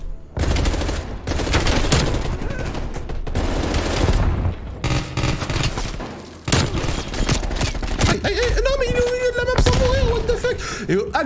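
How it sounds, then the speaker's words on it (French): Rapid automatic fire from a Fara-83 assault rifle in Black Ops Cold War, with dense, high-rate bursts running nearly the whole time and a short pause midway. Game sounds and a voice layer over the firing. "C'est un fusil d'assaut avec une grosse cadence"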